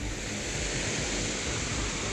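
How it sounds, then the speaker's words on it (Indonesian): Floodwater of the overflowing Cibuntu river in Sukabumi, West Java, rushing after hours of heavy rain, a steady, loud, dense roar of churning water that holds constant throughout without pauses. "Aliran air yang tiba-tiba menerjang membuat warga panik."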